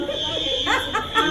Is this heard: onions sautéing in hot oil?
no